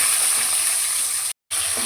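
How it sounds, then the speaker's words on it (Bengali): Bhetki fish fillets frying in hot oil in a pan, a steady bright sizzle close up that cuts out for a split second near the end and then resumes. "এবার মাছে এই পিঠগুলোকে একটু ভেজে নিয়ে তারপর তুলে নেব"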